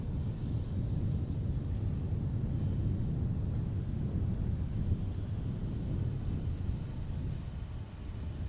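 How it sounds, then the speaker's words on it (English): Cessna Citation 680 business jet taxiing, a steady low engine rumble with broad roaring noise, continuous and fairly distant, no talking. "There's the 680 Cessna Citation."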